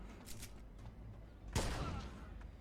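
A single sharp M1 Garand rifle shot in Mafia II, fairly close and punchy, standing out against a low game ambience with a couple of fainter earlier reports.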